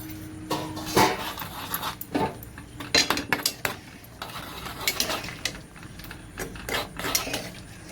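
Maggi noodles being mixed in a bowl with a spoon, irregular clinks and scrapes of metal on the dish coming in uneven bursts, close by with no talk.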